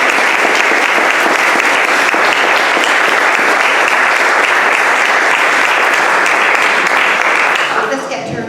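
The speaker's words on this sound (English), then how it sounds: "I would just like everybody to give a applause for those people" Loud, sustained applause from a large crowd fills the room, steady clapping for several seconds before tapering off at the end.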